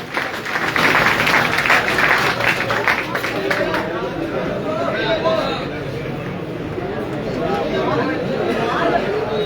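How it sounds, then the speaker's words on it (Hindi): Audience applause at a pigeon racing prize-giving ceremony in Sanghla Hill, a broad wash of clapping mixed with crowd chatter, loudest in the first few seconds and continuing steadily beneath murmuring voices. "स्पेशल तालियां होनी चाहिए इनके लिए।"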